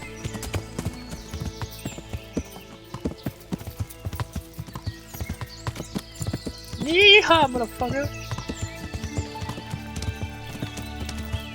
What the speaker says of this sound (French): Tellement bien, putain de cheval.